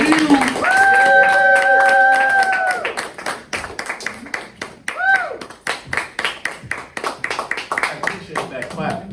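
An audience at a comedy club cheers and whoops, then claps loudly and steadily for a comedian. The applause fades to scattered claps as a voice begins talking.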